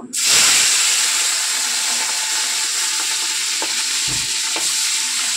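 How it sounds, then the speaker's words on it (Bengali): Loud, constant hiss and crackle of food frying in hot oil, with a few soft clinks of a utensil partway through. "এগুলো মচমচে করে দেখো ভেজে নেব।"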